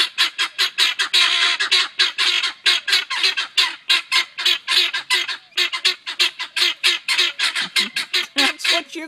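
A flock of guinea fowl calls loudly in a continuous, rapid series of harsh, rhythmic squawking cries that carry on close by without pause.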